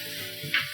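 Dark soy sauce poured into a hot frying pan for pad see ew, sizzling steadily with stirring scrapes and two brief louder hissing bursts near the end.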